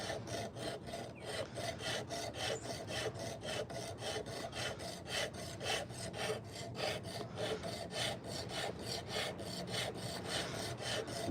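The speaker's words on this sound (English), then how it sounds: "The good old high-speed sander here" Nectarine wood for a carved fork is sanded by hand in quick, even back-and-forth strokes, a steady rhythmic rasping at close range with no talk.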